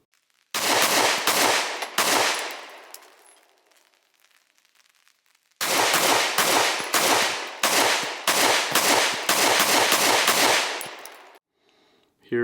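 Rapid strings of loud, sharp gunshots from a ported Springfield Hellcat Pro pistol at an outdoor range, fired in two long bursts separated by a pause of near silence.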